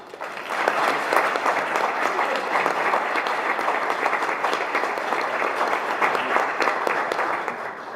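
A room of people at a school board work session applauds young cadet leaders, a full, sustained round of clapping that rises quickly and stays steady throughout.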